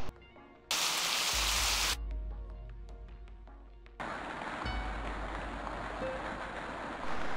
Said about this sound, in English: the rain outside and the rain inside the cockpit